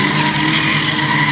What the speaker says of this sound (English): So a bit of a coming together here on the home straight for Paul Fosh in 753